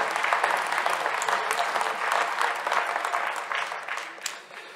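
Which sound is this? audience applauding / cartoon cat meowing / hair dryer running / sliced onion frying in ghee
audience applauding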